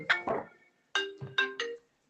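A phone rings with an incoming call: two short bursts of a bright, tonal ringtone, a pause, then three more rising chime notes, close and clear with no talking.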